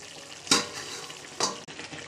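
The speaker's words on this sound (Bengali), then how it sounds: "এবার এটাকে আমি ভালোভাবে নাড়িয়ে নেবো" Capsicum masala with green chillies and coriander powder is stirred in a frying pan, two distinct scraping stir strokes over a soft steady sizzle, close by.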